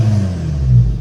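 Stage 2 Volkswagen Tiguan with a downpipe exhaust revving, a deep, throaty rumble that holds steady and swells slightly near the end of a brief, close burst.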